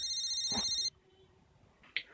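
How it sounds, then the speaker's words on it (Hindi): Electronic telephone ringtone warbles loudly for under a second in a reception setting, then cuts off, followed by quiet room tone and a brief faint tone. "उन्हीं का फोन है।"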